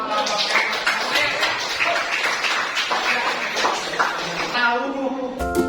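A room of people claps for a group at a school presentation, a dense, close patter of hands that holds steady for several seconds before tapering off.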